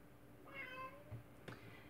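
A house cat gives a single short meow, faint and close, followed by a soft thump, in an otherwise quiet room.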